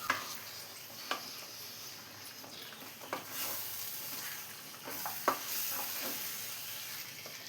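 A kilogram of chicken is stirred into a simmering pot for a coconut milk chicken and tapioca dish, heard as soft sizzling under a few sharp spoon clicks and scrapes spaced a second or so apart, with no voices.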